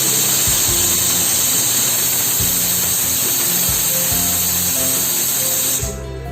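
A pressure cooker holding mutton curry lets off a loud, steady hiss of steam that runs almost unbroken before cutting off abruptly near the end.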